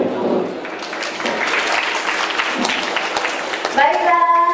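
Audience applause at a product launch for the Asus SU-9500U Google Chrome model, a broad wash of clapping filling the room for several seconds, ending with a short electronic chime or musical tones.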